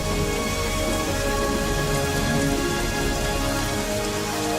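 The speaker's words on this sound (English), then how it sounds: "It's raining inside the temple." Animated rain falls inside a temple in a Buddhist cartoon, a dense, loud, unbroken hiss of drops striking surfaces, steady from start to finish with nobody speaking.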